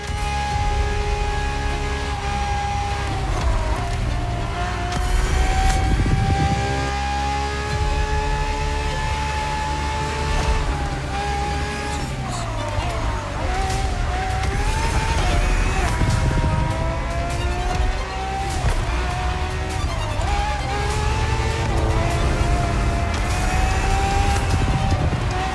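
A Ferrari FXXK races in The Crew Motorfest, its engine howling at high revs with rising and falling pitch through gear changes, loud and close, along with occasional tire squeal and a voice narrating over the top.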